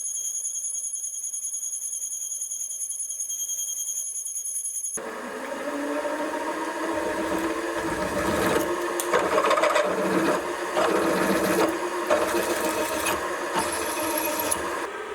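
Spade bit, normally a woodworking bit, cutting a counterbore in soft metal for a vintage machinist die filer: after a few seconds of faint electrical whine, a continuous grinding, scraping cut with rising and falling chatter at moderate volume.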